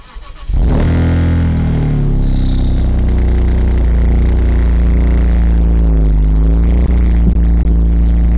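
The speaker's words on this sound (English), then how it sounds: "I wanted to film how Borla exhaust sounds. This is going to be a cold start." BMW E46 M3 convertible with a Borla exhaust on a cold start: the engine catches after a brief crank and settles into a loud, steady, high idle close to the microphone, with no talking.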